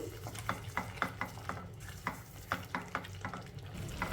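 Spices and spinach frying in a pan for palak paneer, with a soft sizzle and a regular rhythm of spatula strokes stirring the mixture, fairly quiet and close, no talking.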